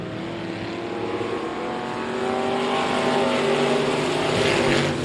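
Outlaw modified race cars roar around Kennedale Speedway, a steady growling engine drone that swells louder as the pack draws nearer, with no voices over it.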